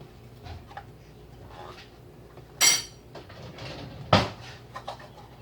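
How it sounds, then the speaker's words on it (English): A lid is worked open on an Argo baking powder container in a home kitchen: scattered faint taps and scrapes, then two louder sharp clacks, the second a crisp metallic snap. "As usual, we have to figure out a way to open the lid."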